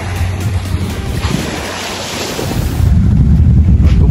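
Ocean surf breaks and washes ashore at a white-sand beach in Casiguran, Aurora, with loud rolling waves and blustery wind buffeting the microphone, swelling stronger toward the end.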